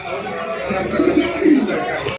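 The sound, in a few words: pigeon cooing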